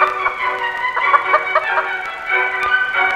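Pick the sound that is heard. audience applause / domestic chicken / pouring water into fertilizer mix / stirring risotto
domestic chicken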